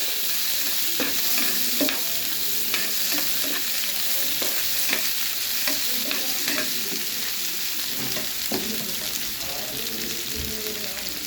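Onion, curry leaves and green chilli fry in oil in a pan for a broad bean and potato stir-fry, a steady close sizzle with scattered stirring scrapes throughout and no talking.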